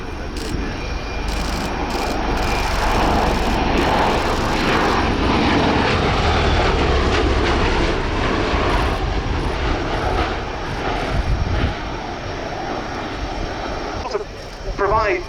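A V-22 Osprey tiltrotor's engines drone loudly and continuously over an air show, a broad steady roar lasting the whole stretch, while a commentator talks over it.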